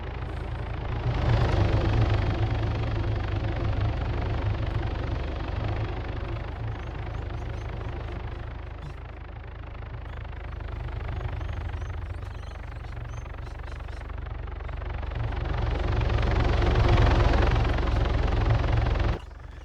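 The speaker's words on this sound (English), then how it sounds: "And then we have the chopper flying back." A helicopter flies in the game Arma 3, its rotor throbbing as a constant heavy drone that rises in the middle and surges louder again near the end before cutting off.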